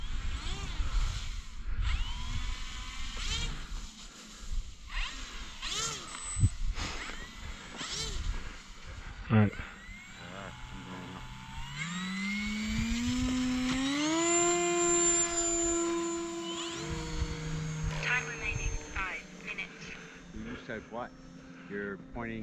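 An E-Flite Timber RC airplane flying over snow, its electric motor whining and sweeping up in pitch as it throttles up and passes, with someone talking over it.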